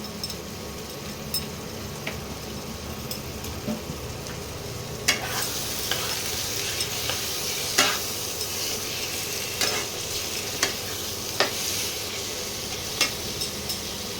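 Spice masala with Kashmiri chili and coriander powder fries for a lamb curry, a continuous hiss of sizzling under repeated close scrapes and clinks of a spoon stirring against the pan.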